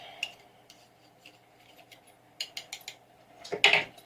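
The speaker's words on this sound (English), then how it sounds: "And just keep chopping." Light scraping and scratching in a bowl, a few soft cuts, then a louder burst of clicky chopping near the end, close and dry.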